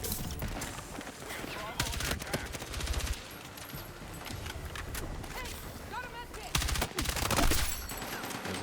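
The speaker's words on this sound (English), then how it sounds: "We're getting shot from behind" Dense bursts of automatic gunfire from a first-person shooter with an M4A1 loadout, rapid rattling volleys coming in waves with brief pauses, while a voice talks over the action.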